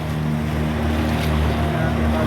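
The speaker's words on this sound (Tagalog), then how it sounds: "Ang laki ng alon!" Motorboat on an island-hopping trip pounding over big sea waves, its engine a loud, constant drone with rushing water and wind all around it.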